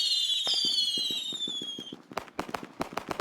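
A firework cake bursts in the video game Fireworks Mania: a whistling rising streak first, then a rapid string of sharp crackling pops and bangs, loud and close with no talking.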